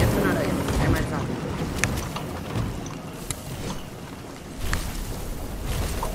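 A boat in Fortnite is driven across water with a continuous motor drone, rushing wind and splashing, loud and steady with a few brief knocks.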